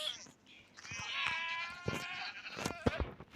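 A goat in Minecraft version 1.19 bleats with a drawn-out, wavering cry, clear and close, followed by a few short soft clicks and taps.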